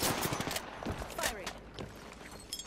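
Gunfire in the video game Apex Legends, rapid bursts of shots over continuous game noise, loud and close, with a voice speaking briefly alongside.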